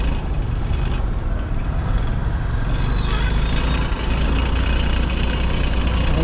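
Motorbike stopped in road traffic on a highway between Mumbai and Pune, with the low rumble of idling engines from surrounding vehicles running steadily and fairly loud throughout.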